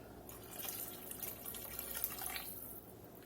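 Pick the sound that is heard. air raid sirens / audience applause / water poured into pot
water poured into pot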